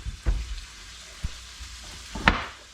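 Cajun sausage and rice cooking in a skillet, a steady soft sizzle punctuated by a few sharp clanks and scrapes of stirring utensils against the pan, with no voices.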